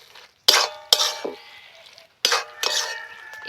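Utensil scraping and clinking against a pan while a cabbage dish is mixed with chopped coriander sprinkled on top; sharp separate clinks and scrapes in two bursts, close and fairly loud, no talk.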